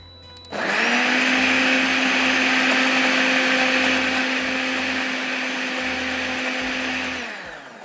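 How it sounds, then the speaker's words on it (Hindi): An electric kitchen grinder whirs loudly and continuously for about seven seconds while grinding a coarse chutney mixture for carrot pickle, starting abruptly and winding down at the end, close and alone. "थोड़ा सा इसको और पीसना पड़ेगा।"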